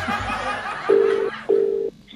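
Two steady telephone tones, each about half a second long, come up while a phone call is placed again. They follow brief background murmur and a soft laugh.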